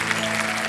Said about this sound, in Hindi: एक बार फिर जोरदार तालियां